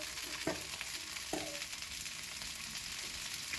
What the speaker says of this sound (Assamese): এখন কেৰাহীত মই অকণমান তেল দি ফুলকবিখিনি অকণমান নিমখ হালধি দি ফ্ৰাই কৰি ল'ম।